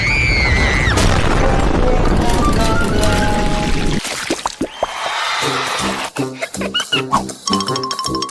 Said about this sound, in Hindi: भूकंप।